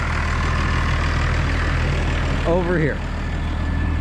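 A big tractor fitted with a small brush cutter runs in a field, giving a steady, loud, low engine drone throughout, with someone talking over it briefly.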